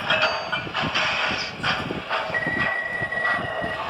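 A model train rolls along the track at the Strasburg train museum, a steady close rumble and clatter of wheels with a faint whine as it moves.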